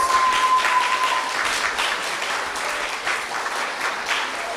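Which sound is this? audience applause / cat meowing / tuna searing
audience applause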